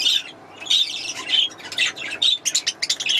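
Newly bought parakeets and zebra finches from a breeder call repeatedly, with shrill, close squawks and chirps in uneven bursts and short rapid notes toward the end.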